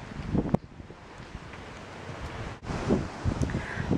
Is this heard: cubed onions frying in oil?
no